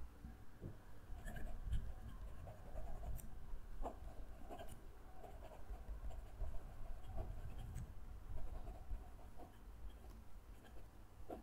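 A fountain pen nib scratches across paper in steady, close strokes of writing, with soft irregular ticks and scrapes running throughout and no voices.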